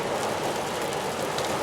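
Rain falls steadily on a car during a drive, a dense, even hiss of drops with road rumble underneath, continuous and close throughout.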